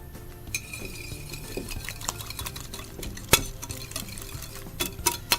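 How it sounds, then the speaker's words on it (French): A spoon scrapes and clinks around a bowl as semolina and caster sugar are mixed together for coconut semolina ghriba cookies, soft gritty stirring with a few sharper taps against the bowl's side. "Le sucre semoule, je vais mélanger."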